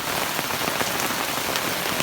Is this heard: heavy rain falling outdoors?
yes